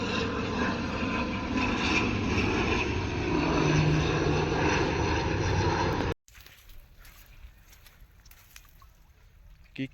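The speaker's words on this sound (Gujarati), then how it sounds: "તો ભાઈ આ જો પ્લેન જાય આ હાવ એઠું છે." An airplane flies low overhead near a coastal creek, its engine drone loud and steady for about six seconds before cutting off abruptly, leaving faint background noise.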